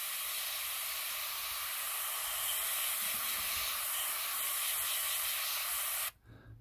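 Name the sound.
airbrush spraying paint on a 1/72 scale model tank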